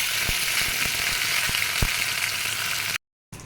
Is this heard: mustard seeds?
yes